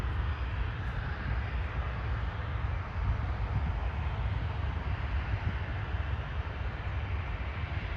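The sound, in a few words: Bombardier Challenger business jet at Toronto airport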